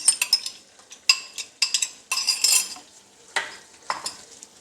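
A masala and curd mixture fries in a pan for chicken achar gosht, with bursts of sizzling and clinking spoon strokes against the metal in an uneven rhythm, close and loud, no talking.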